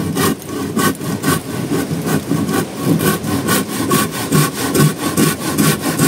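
Hand sawing through wood, a steady run of rhythmic rasping strokes about two per second, close and fairly loud, with no talk.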